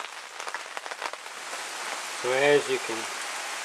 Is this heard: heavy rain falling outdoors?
yes